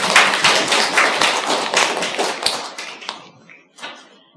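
Applause at a small Tuesday Bible study gathering welcoming a new member, a short burst of close, uneven hand claps from a few people that thins out and stops after about four seconds.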